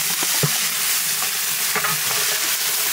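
Mutton curry frying in a pan as ginger paste is added, a loud continuous sizzle close by with scattered stirring scrapes and soft bumps.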